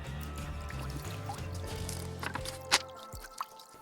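Soapy water dripping down a stairwell makes scattered wet drips and small trickling splashes, quiet and close, with a sharper splat near the end.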